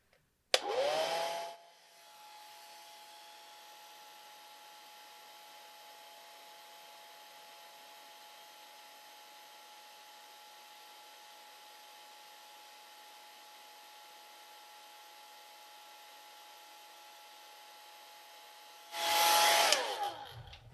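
A hair dryer blows on a watercolor painting with a steady whirring hum for about twenty seconds, louder and rougher as it starts and again just before it stops.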